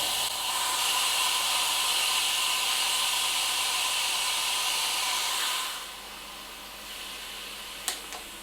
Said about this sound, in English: I'm just going to release the steam a bit more.